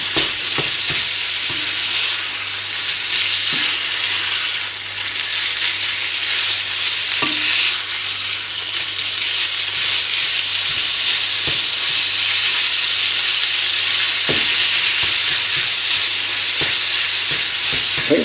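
Minced meat for Bolognese browns in a pan with a loud, continuous sizzle and hiss, broken by occasional stirring knocks, steady for the whole stretch with no talking.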